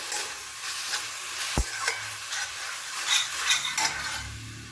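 Poppy seeds stirred into red amaranth greens frying in a pan, a steady quiet sizzle with scraping spoon strokes and one sharp knock against the pan, no voices.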